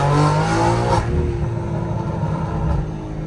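A BMW G80 M3 engine revs at high RPM, a loud continuous rumbling roar heard from inside the car during a night city drive, with no voices.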